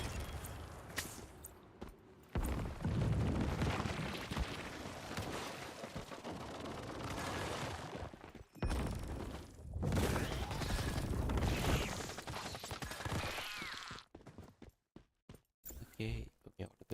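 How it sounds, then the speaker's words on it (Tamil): Bomb explosions in the game Once Human come as loud, rumbling, sustained blasts in two long bursts, separated by brief drops to near silence, with people talking over the action. "குண்டு வெடிக்குது மேடம்."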